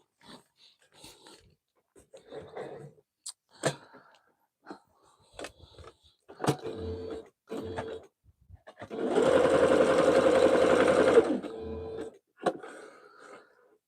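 Sewing machine stitching soup bowl cozies on stitch setting 16, a steady buzzing run of about three seconds after scattered clicks and handling noises, with a dog growling nearby.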